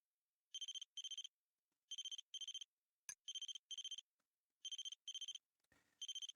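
A telephone rings in the horror game Scar of the Doll, sounding in paired electronic trills repeated three times with gaps, a sharp click between, loud and clear with no talk.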